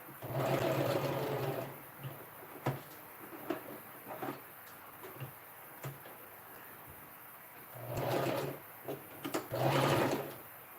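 A sewing machine top stitches a dress seam in bursts, a close whirring run at the start and two more near the end, with faint clicks and fabric handling between the bursts.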